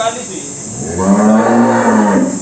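A horned cow on a dairy farm lets out one loud, close, drawn-out moo that rises and holds, with no voices over it.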